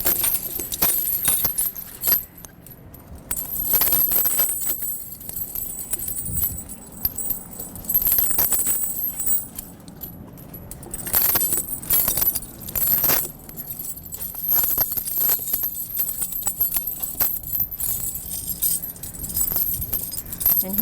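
Heavy metal snow chains clink and jangle in irregular bursts as they are draped a bit at a time over a super single truck tire, loud and close with no talking.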